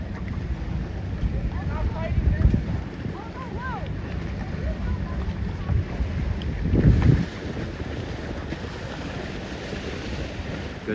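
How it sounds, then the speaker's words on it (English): Steady wind buffets the microphone aboard a C420 dinghy racing at a regatta, a constant broadband rush with water sloshing against the hull and a louder gust or splash midway, with no talk. "the wind is very steady"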